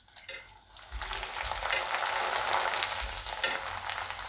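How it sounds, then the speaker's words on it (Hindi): Flattened rice poha frying in hot oil, a dense crackling sizzle that swells after a quiet start and stays loud and close throughout. "जो पोहा है वो हम फ्राई करेंगे।"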